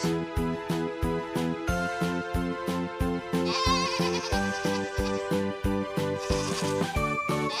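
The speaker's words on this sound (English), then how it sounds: "Goat." A goat bleats a few times, its wavering cries rising over a steady, bouncy music track with a regular beat.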